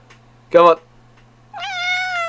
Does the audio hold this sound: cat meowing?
yes